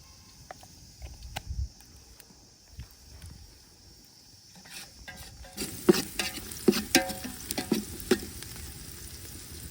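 Onions fry and sizzle in a pan while being stirred, a steady close crackle with scraping stir strokes growing busier and louder partway through.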